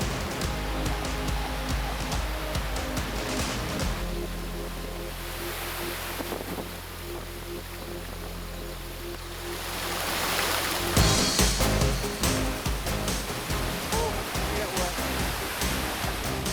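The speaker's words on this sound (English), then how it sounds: "We found one last roadside waterfall before heading back." Steady rushing water from a roadside waterfall in Banff National Park roars continuously, broadband and fairly loud, with wind buffeting the microphone and a louder surge near the end.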